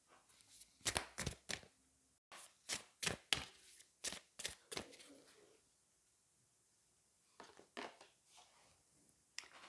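An oracle card deck being handled and shuffled, with a card drawn: a run of crisp, close flicks and riffles in quick bursts, pausing midway before a few more snaps.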